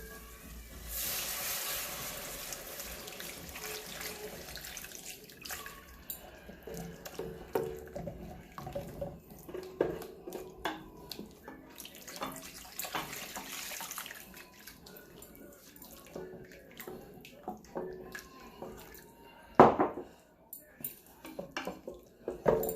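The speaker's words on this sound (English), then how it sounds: "I'm going to add my water." Water pours and splashes from a tap into a pot in a home kitchen, quietly at first, among clinks of pots and utensils, with a sharper clatter near the end.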